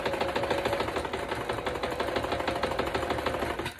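A sewing machine stitches steadily inside a trailer, its rapid mechanical clatter running fast and even from start to finish, close and fairly loud, with no talking.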